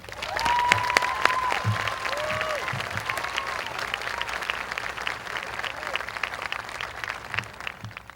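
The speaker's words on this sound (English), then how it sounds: "I think that she deserves a huge round of applause" Steady applause from a high school graduation audience fills the hall for a speaker, many hands clapping evenly, with a few whoops rising above the clapping.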